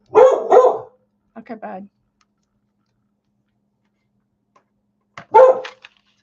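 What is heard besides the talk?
dog barking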